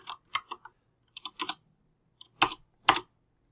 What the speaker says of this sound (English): So I'll just double click all that and then type in Ethiopia